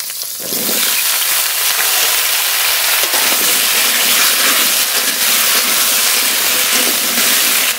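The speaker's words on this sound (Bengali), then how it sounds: "পটল নেড়ে নেড়ে খুব ভালো করে ভেজে নেব।" Pointed gourd and potato frying in mustard oil in a wok, a loud, steady hiss and sizzle that starts abruptly and holds close and continuous throughout.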